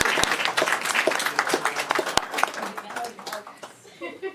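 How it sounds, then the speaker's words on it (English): Applause rises at a city council meeting, with individual claps sounding close and distinct, mixed with talking voices, and fades out toward the end. "Give them a big round of applause."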